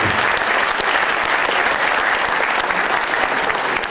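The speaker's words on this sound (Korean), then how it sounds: "박수와 여러분 옆에 박수 한번 쳐주시기 바랍니다" Loud, dense applause from a crowd gathered at an architecture department's 40th anniversary event, a steady unbroken wash of clapping throughout.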